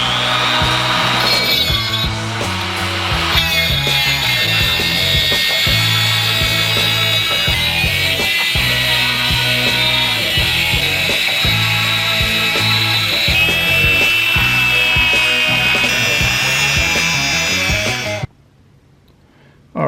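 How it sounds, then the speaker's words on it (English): A cutoff wheel grinds loudly and continuously through a Norton Commando camshaft nut, a harsh, close, high whine with a steady rasp that cuts off abruptly near the end. "I'm just going to do a hard cut along here with the cutoff wheel."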